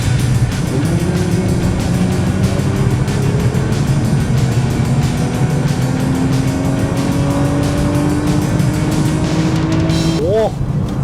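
A Nissan GT-R R35 sports car engine drones loudly, its pitch climbing steadily as it accelerates, then gives a sharp rev near the end.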